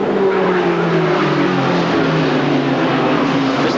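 Stock cars race in the 1998 ASA AC-Delco Challenge Series at the LaCrosse Fair, led by Rick Beebe's Myers Pontiac, producing a loud, continuous engine roar with gliding pitch as the pack passes close.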